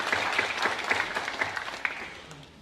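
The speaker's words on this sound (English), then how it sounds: "So give the parents a round of applause." An audience at an academic awards ceremony applauds the parents, a close crowd of clapping that starts full and gradually thins and fades toward the end.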